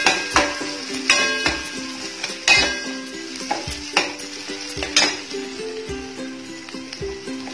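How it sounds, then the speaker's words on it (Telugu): Green peas frying and being stirred in a pan with ginger-garlic paste and turmeric for a paneer baby corn curry, with steady sizzling broken by repeated scrapes of a spoon against the pan. "గ్రీన్ పీస్ కూడా బాగా వేగాక"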